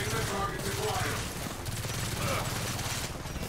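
Rapid gunfire from the Gears of War 4 video game: a dense, continuous run of shots that stays loud and busy throughout, with game music and effects layered underneath.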